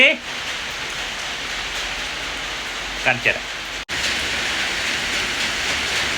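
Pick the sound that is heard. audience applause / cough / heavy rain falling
heavy rain falling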